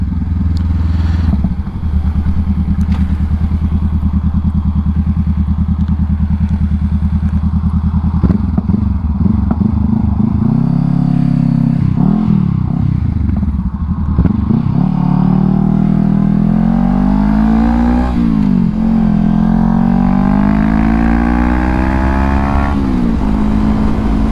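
Honda CBR500R motorcycle engine revving hard through the gears, loud and close, with rising pitch sweeps as it accelerates past another vehicle, steady road and wind roar underneath.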